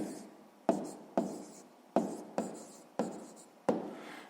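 Pen strokes writing an answer into a school notebook during a sixth-grade math exercise, about six distinct scratching bursts, each starting sharply and trailing off, close and fairly quiet with no talk.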